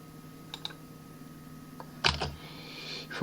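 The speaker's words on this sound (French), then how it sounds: "L au clavier, clic, espace, pour sortir de ma fonction, L, clic, espace" Keys and a mouse click sharply in CAD drafting software: a few faint taps, then a louder cluster of clicks near the end over a low steady hum, with no voices.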